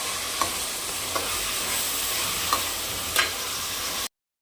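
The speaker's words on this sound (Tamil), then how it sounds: "நல்ல வெங்காயம் வந்து பொன்னிறமாக வதங்கணும்" Onions sautéing in oil until golden, a steady sizzle throughout with a few light clinks and scrapes of stirring, close and alone, ending abruptly in silence.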